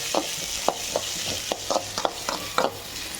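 Sliced onions are fried in hot oil in a pan, a constant bright sizzle with repeated scraping stirs at a steady rhythm, close and fairly loud.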